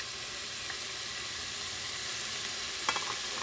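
Garlic hits hot oil on top of sofrito and onions for Puerto Rican arroz mamposteao, giving a steady close sizzle with a brief burst of crackling near the end, no voices.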